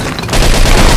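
Gunfire in the video game Mafia 2, a dense loud burst of rapid overlapping shots that starts suddenly and keeps going.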